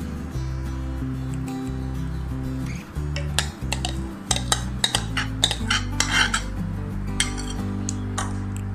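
Wood apple pulp and fiber scraped into a metal cooking pot, with repeated clinks, scrapes and knocks of a utensil against the pot over steady background music.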